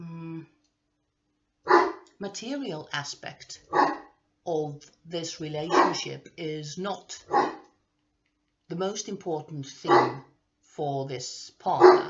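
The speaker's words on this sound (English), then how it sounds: "I'm so sorry about the barking." A dog barks a few times in the background while a person speaks nearby, the barks mixed in among the talking.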